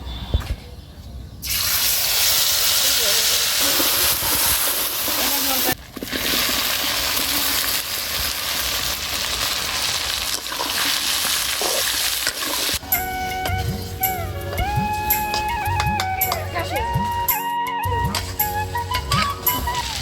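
Ground mustard paste hits hot oil in a pan for olive pickle in a village kitchen, setting off a loud, steady hissing sizzle that later softens under melodic background music.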